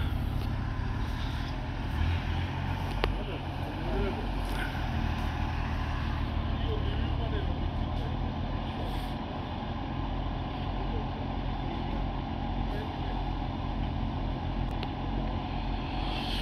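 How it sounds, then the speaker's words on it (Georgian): A tow truck engine runs with a steady low rumble that continues unbroken through the whole clip, close and fairly loud, with people talking over it. "საევაკუაციო მანქანა."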